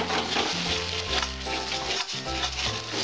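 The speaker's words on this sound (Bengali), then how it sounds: "আমি টমেটো পিউরিটা দিয়ে দিলাম" Tomato puree hits a hot pan and sizzles steadily, a close crackling fry with some stirring or scraping running throughout.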